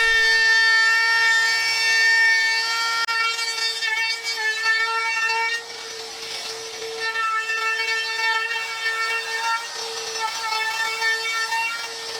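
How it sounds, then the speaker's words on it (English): An electric router trimming the edges of an MDF top piece for a miter saw stand, a steady loud high-pitched whine with a strong tonal hum that holds throughout, dipping slightly midway. "Here I'm routering the edges of the top MDF piece to make it a nice smooth appearance"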